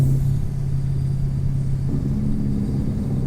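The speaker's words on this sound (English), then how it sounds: "Just love listening to the sound of the engine" A Mack Ultraliner truck hauling a Midland B-double tipper in American Truck Simulator drones steadily at low pitch, a deep continuous engine rumble that shifts slightly in tone partway through, no talk.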